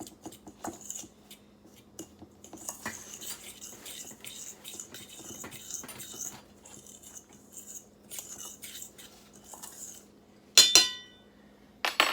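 Keto blueberry muffin dry ingredients being stirred in a bowl, light scraping and intermittent clinks of utensil against the bowl, fairly quiet, with a sharper clatter near the end.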